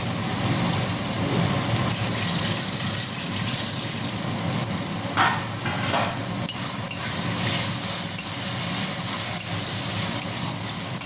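Spice paste frying in oil in a pan for a vegetarian soybean dish, a steady close sizzle with faint stirring scrapes running throughout, no talk.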